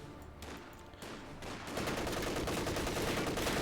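Rapid rattling MG42 machine gun bursts mixed with rifle shots in a Company of Heroes 2 battle, the firing building into a dense, continuous fusillade toward the end.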